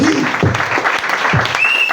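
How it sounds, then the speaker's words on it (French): A church congregation claps during a French-language sermon, with rhythmic clapping under a speaking voice and a brief tonal sound near the end. "Est-ce que vous allez me donner les acclamations d'abord?"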